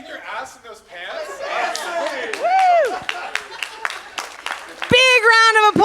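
Audience clapping at a business conference session mixes with chatter and laughter, with voices talking over it and a loud whoop-like cheer near the end.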